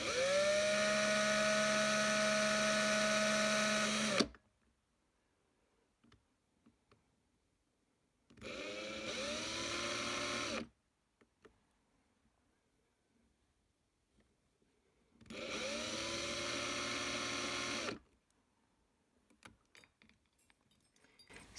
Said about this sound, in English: holding the pliers on the other side, nice and taut, just spin the drill.